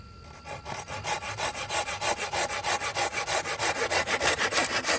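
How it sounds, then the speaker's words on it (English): A small Silky hand saw cuts through a piece of cherry wood in quick, even back-and-forth strokes. The rasping is close and grows slightly louder as the cut goes on, with no voices. "saw through a piece of cherry"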